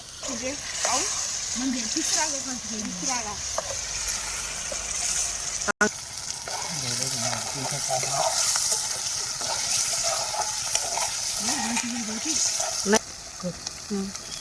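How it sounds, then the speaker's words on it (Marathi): Fish pieces sizzle and get stirred through masala in a pan, a continuous frying hiss under a voice talking throughout. "माशा टाकते आता हलावते"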